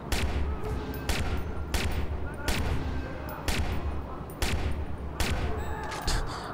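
Gunshots in the video game Watch_Dogs, about seven sharp loud bangs spaced roughly a second apart, each with a brief ringing tail, over a low game ambience.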